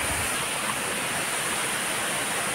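Steady roar of the waterfall at Dayhag Falls in Boljoon, Cebu, a dense, constant rush of falling water heard close and loud throughout, with no voices.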